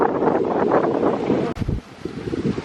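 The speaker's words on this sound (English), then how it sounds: "A bit windy." Strong gusting wind buffets the microphone outdoors on a severe wind warning day in Tenerife, a loud continuous rumble with a brief sharp drop partway through.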